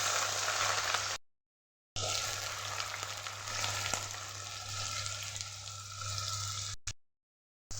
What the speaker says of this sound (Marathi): त्याच तेलामध्ये आपण हे बटा चिरलेले बटाटेसुद्धा टाकायचे आहेत